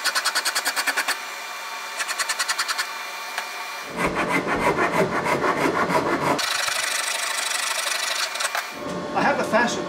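Curved rasp working a wooden guitar neck, heard as close, rhythmic rasping strokes in quick bursts, then longer, heavier scraping passages, with brief quiet gaps between sets.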